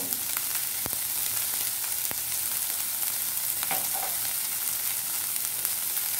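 Spices frying in hot oil for a masala dosa potato filling, a steady dense sizzle throughout with a few sharp spatula clicks and scrapes against the pan, close and fairly loud, no voices.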